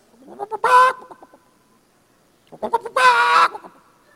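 A person's voice imitates a hen clucking after laying an egg: two loud, close, squawking bursts, each led by short clucks, separated by a pause.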